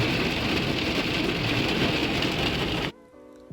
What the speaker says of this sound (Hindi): पे काफ़ी ज़्यादा बारिश हो रही है